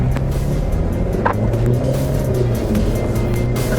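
A Mercedes-Benz C200 with automatic transmission pulls away from a stop, its engine a steady, loud, close hum with a low drone and faint road and cabin noise throughout.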